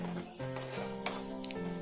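Jaggery added to sorrel leaves pickle cooking in a pan, a loud close sizzle and frying hiss with stirring scrapes, alongside a tonal hum and no talk.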